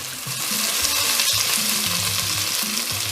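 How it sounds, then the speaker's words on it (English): Gizzard stir-fried with onion in a hot pan, a loud, close, continuous sizzle with the rustle and scrape of stirring running through it, and no voices. "I'm going to kind of stir fry my gizzard now with the onion"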